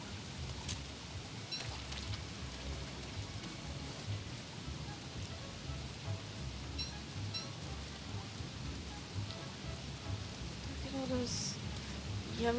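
Rain in a farming game falls steadily as a dense, even patter with a low rumble beneath, and a few faint chimes sound over it, during a rain of frogs.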